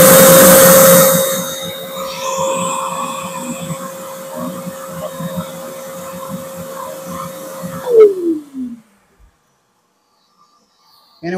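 A heat gun set to low blows a steady, airy whir with a faint tonal hum, running alone for several seconds before it shuts off and its pitch sinks away into near silence.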